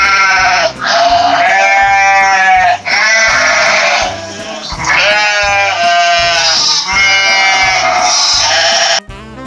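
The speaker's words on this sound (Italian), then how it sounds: "E questo di chi era? Dell'asino o della pecora? Bravi, era della pecora!" Sheep bleating loudly and close, a continuous run of wavering, nasal baa calls, several overlapping and repeated over a steady low rhythmic thumping.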